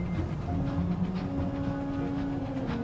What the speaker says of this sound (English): That was like a train in the background.